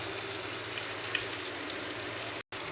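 Chopped onions and cumin seeds fry in hot oil as a tempering, giving a steady fine crackling sizzle close by, unbroken except for a momentary cut near the end.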